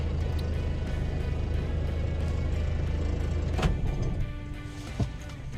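Nissan Micra engine starting and idling steadily, a low running hum with a brief click and clunk partway through as it settles.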